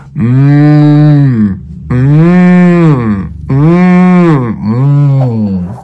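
A person imitates a cow, letting out four long, loud, drawn-out moos one after another with brief gaps between them, the voice sounding close and strong.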